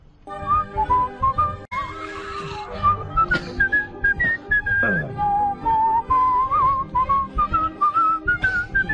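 A championship whistler carries a tune over a music backing, the clear piercing melody sliding and warbling in long phrases, close and prominent, with no talking.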